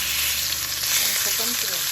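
Chicken pieces go into a wok of hot olive oil, setting off a loud, bright, continuous sizzle that stays steady and close for the whole brief moment.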